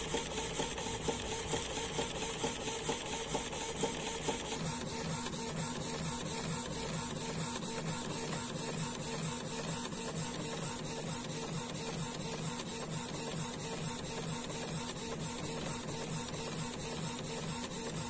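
A Canon IP2770 inkjet printer runs steadily through an ID card print, its carriage and feed mechanism whirring in a continuous, even mechanical drone with no talk over it.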